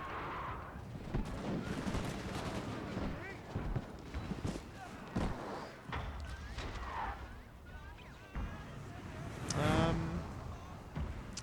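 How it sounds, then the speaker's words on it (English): Artillery fire in the Napoleonic battle game Napoleon Total War, Battle of Leipzig: repeated dull booms and crackling volleys rolling through a dense battle din, with a louder burst near the end, under ongoing commentary. "he's focus firing his artillery here as well"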